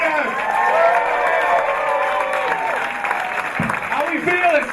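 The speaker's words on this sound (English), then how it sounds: "Make some noise for my good friend, Mr. Sean Leary, guys." A studio audience at a television taping claps and cheers in a broad, sustained wash, while a host's amplified voice calls out over the crowd.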